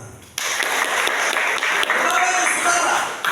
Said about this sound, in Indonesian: Tepuk tangan dulu bagi Tuhan.